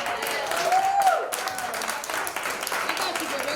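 Audience applause at a poetry slam at the Nuyorican Poets Cafe, a dense, steady wash of clapping that fills the room, with a brief voice rising over it near the start.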